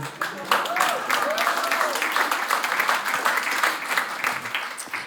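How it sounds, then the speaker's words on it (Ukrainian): A stand-up comedy crowd applauds a Ukrainian comedian, a continuous, fairly loud wash of clapping that holds steady, with a voice faintly underneath. "ви аплодуєте"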